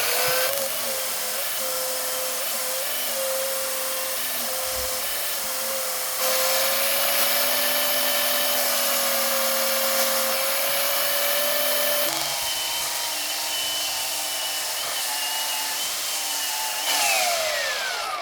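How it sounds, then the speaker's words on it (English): A homemade bench grinder whines steadily at high speed while shaping red oak revolver grips, a continuous loud motor drone that shifts in pitch as the wood is pressed against the wheel, no talking. "Set up the homemade bench grinder, hopefully for the last time."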